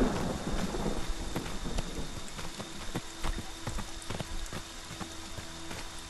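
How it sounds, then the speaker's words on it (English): Steady video game rain hiss fills the scene in Friday the 13th: The Game, with scattered sharp crackles and low rumbling like a storm with distant thunder, no voices present. "It is raining."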